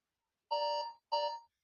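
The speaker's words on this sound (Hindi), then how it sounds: "और ये आपका भाई टाइमर शुरू हो गया है" Two electronic quiz countdown timer beeps, each a sustained bright tone lasting about a third of a second, sounding close and clear with a short gap between them and no talking.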